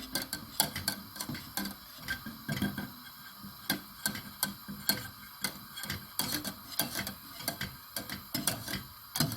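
A wire whisk beats cream in a pot on the stove with quick, steady rhythmic taps and scrapes against the metal, close and fairly quiet, continuing evenly throughout.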